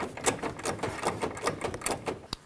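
A long ratchet snugs the hard-to-reach fog light assembly bolt on a 1998–2011 Ford Ranger, producing a fast, even train of loud, close mechanical clicks that ends with a sharp final snap.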